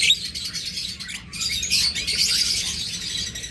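Pet birds kept for sale chirp and twitter steadily in high, bright calls, close by and continuous throughout, with no talking.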